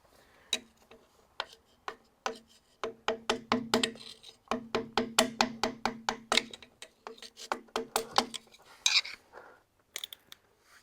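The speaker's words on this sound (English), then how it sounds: "Just an easy scrape here." Old gasket being scraped off a Big Cam Cummins diesel engine, heard as a rapid series of short, sharp scraping strokes in an uneven rhythm, fairly close and moderately loud, with brief pauses between bursts.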